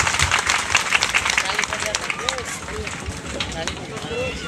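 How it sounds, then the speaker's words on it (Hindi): A crowd applauds at a World Adivasi Day stage event, with scattered clapping and busy voices and movement mixed together across a lively, fairly loud stretch. "सभी लोग एक बार जोरदार ताली के साथ स्वागत करेंगे।"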